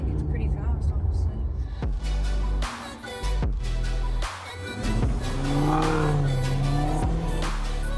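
The V8 engine of a 2013 Maserati Quattroporte accelerates and revs with a loud, rising growl under shifting tire and road noise. A voice is heard over it.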